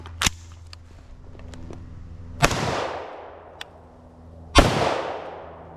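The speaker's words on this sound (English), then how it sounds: "I'm going to start unsuppressed, 2 shots, slow fire into the dirt." An unsuppressed AR-15 rifle fires into dirt outdoors, with two sharp, loud reports spaced about two seconds apart, each ringing out with a fading echo, plus a smaller earlier crack and faint clicks in between.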